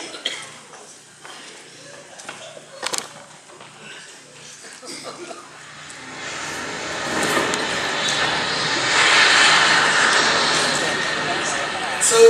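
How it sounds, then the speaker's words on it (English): An airliner flying from Rome to Sacramento gives off a broad, steady engine roar that swells in over the second half, following a cough and some talk. "So Gina and Carlo boarded the plane and are now on their way to the Don's estate in Lincoln Hills."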